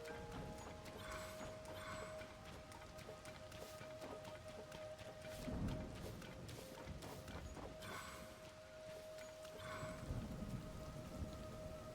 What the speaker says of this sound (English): I think that's just from the thunder.